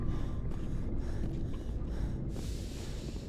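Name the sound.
Mass Effect video game character panting after running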